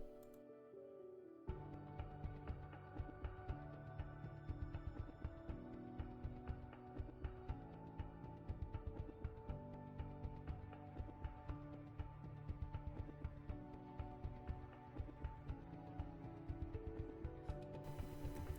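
A sewing machine runs a straight stitch around a cloth pad fabric lining piece, a fast steady mechanical clatter of needle strokes, faint and close, running continuously after a short start.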